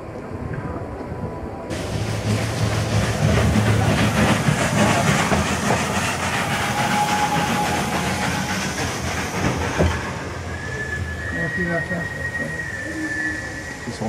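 A train rolls along the railway track at Fond de Gras, loud and close with a rumbling clatter and steady hiss that swells and then eases.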